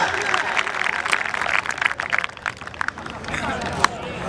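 A crowd at a kabaddi match at Gondal Stadium in Punjab applauds in a steady, dense wash of clapping and noise that runs throughout, with an announcer's voice over it.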